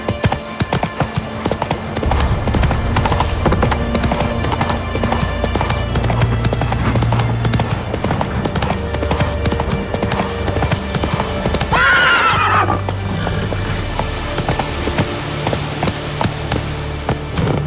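Horse in the video game The Witcher 3 galloping with rapid rhythmic hoofbeats throughout, a loud whinny rising near the middle, amid game music and combat ambience.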